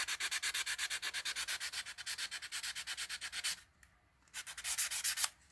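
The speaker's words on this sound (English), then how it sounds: "I'm gonna clean it up a little bit with the sandpaper." Sandpaper rubbed over a butter knife blade to smooth out a gash, making fast, steady back-and-forth scratching strokes close up, with a brief pause before the sanding resumes.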